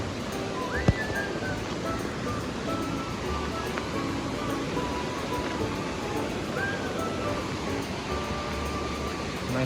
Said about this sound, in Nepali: बाढी आइरहेको छ रात पानी परेछ